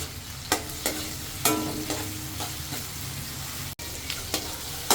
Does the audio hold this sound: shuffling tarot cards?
no